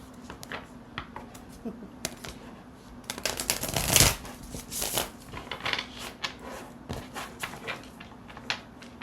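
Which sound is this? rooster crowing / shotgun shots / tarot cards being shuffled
tarot cards being shuffled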